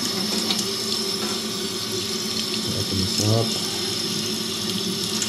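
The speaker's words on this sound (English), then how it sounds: "what you can do to get rid of the remaining suds is just take a little bit of water" Tap water runs steadily into a sink, rinsing soap suds off glasses after an ultrasonic cleaner. The flow is close and continuous, and a voice speaks briefly over it.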